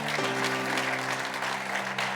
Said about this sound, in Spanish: Denle ese fuerte aplauso a Cristo porque Él es bueno.